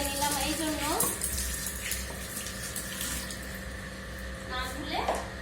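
Tap water runs steadily into a kitchen sink while ingredients are rinsed during home cooking, a continuous close splashing with faint clinks and background noise.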